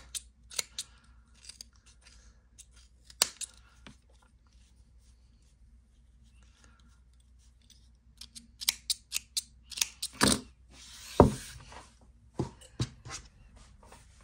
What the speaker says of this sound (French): je vais couper pour ouvrir le bas et le mettre tous les fils sur la même hauteur